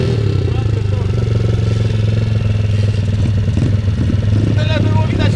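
An enduro motorcycle engine running close by, a loud steady low drone that holds throughout with slight revving near the end, while people speak over it.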